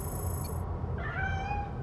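A cat meows once in the video game Gotham Knights, a clear rising and falling call that stands alone and close over a low steady background hum.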